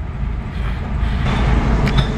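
Loud train rolling past at close range, a steady heavy rumble filling the whole stretch with no voices over it.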